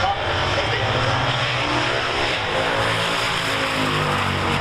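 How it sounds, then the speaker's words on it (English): A turbocharged AMC 258 inline-six runs at a steady, loud drone, with a constant engine roar and no breaks. "You have to hear that double center. The 258 AMC engine, but with a turbo."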